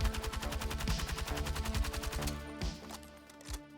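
Rapid automatic gunfire from the video game Battlefield 6, a fast even burst of loud close shots for over two seconds, then a couple of single reports with a trailing echo.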